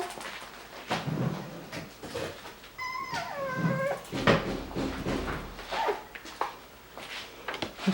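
Coton de Tulear puppies in their kennel, close whimpers, yips and a few rising squeals scattered over eight seconds, mixed with light rustling and shuffling movement.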